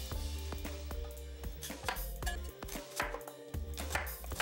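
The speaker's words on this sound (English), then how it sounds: "Slice up half a cucumber" A knife slices half a cucumber on a cutting board in quick, regular taps, a close, crisp rhythm of about a dozen cuts with a brief pause midway.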